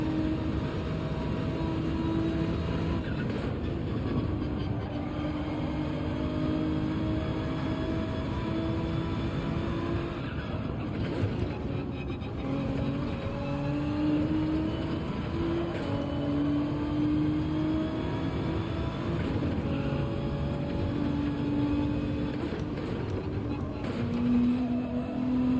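Ferrari race car engine in the video game Gran Turismo 7 at Road Atlanta, a steady droning whine with shifting pitch that runs throughout, with other cars mixed in and voices talking over it.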